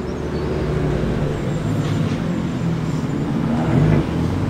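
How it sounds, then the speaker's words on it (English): Classic cars, among them an MGB, a red Toyota Supra and a Toyota Celica, rolling into a February car meet, a continuous engine rumble that swells slightly near the end, with no talk. "A few cars starting to arrive now."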